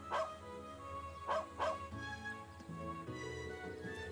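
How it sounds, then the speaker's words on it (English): A dog in the game Trails of Cold Steel II gives three short yipping barks, one and then a quick pair, fairly faint, over soft background music. "Dog."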